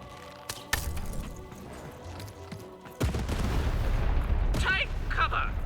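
A cannon fires in Lost in Random: a sharp blast followed by a sustained roaring rumble and scattered impacts, with a voice speaking over the noise.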